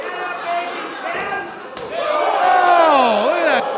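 A wrestler's knife-edge chop lands on an opponent's chest in the ring with a single sharp slap midway, while crowd noise and excited commentary carry on around it.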